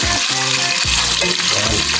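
Food for chop suey sizzles and crackles loudly as it is sautéed in a hot pan, with a steady frying hiss and a few bursts as ingredients are stirred.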